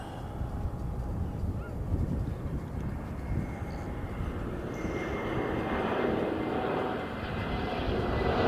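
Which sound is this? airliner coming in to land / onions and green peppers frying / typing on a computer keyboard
airliner coming in to land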